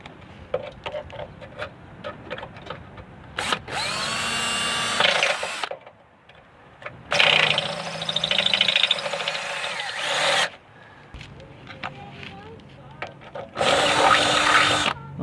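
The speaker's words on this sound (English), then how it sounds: "try to drill out this hole where the bolt was broken off" A power drill whines in three long bursts, loud and close, drilling out a broken-off bolt on a 1994-1998 Ford Mustang fender, with quiet scraping and handling noises in the pauses between.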